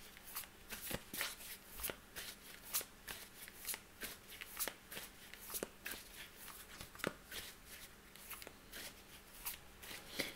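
A Gilded Tarot Royale deck being shuffled up close, soft rapid riffles and card slaps repeating in a steady rhythm, quiet with no voices.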